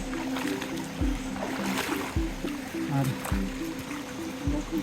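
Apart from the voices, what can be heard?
stream water flowing from Khaiyachhara waterfall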